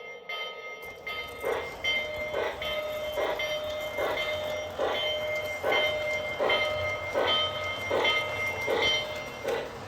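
A Lionel Lionchief Walt Disney World 50th anniversary model train runs steadily with a rhythmic clicking and whirring, repeating evenly about once a second under a constant mechanical hum.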